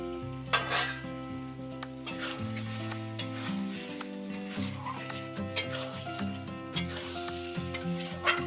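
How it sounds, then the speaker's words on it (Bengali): Mutton curry being stirred in a pot after salt and fried potatoes go in, with steady sizzling and frying under repeated scraping and clinking of a spoon against the pot, continuous and fairly close, without talk. "এবার পরিমাণ মতো নুন ও ভেজে রাখা আলু দিয়ে 2 থেকে 3 মিনিট নাড়ার পর দিয়ে দেব 2 চামচ গুঁড়ো করে রাখা মশলা"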